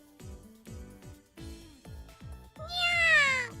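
A cat from The Fruit of Grisaia visual novel gives a single clear, drawn-out meow that rises and then falls. It plays over a plucked, rhythmic game music track.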